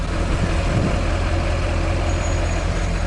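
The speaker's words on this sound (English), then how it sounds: "Listen to that turbo spool though." A dually pickup truck's engine drones steadily from inside the cab, with a faint turbo spool whistle rising briefly above the low rumble.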